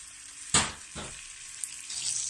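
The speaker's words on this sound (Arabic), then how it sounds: "باش يزيد يتقلي مليح" Pastry dough frying in olive oil for a Tunisian sweet, a steady soft sizzle with two louder hissing bursts as pieces are moved, close and without talk.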